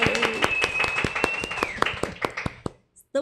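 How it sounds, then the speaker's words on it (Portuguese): A short round of applause at a live podcast taping in São Paulo, sharp separate claps under a host's voice, fading out to silence near the end. "uma salva de palmas"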